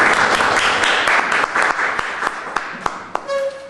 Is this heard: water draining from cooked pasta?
no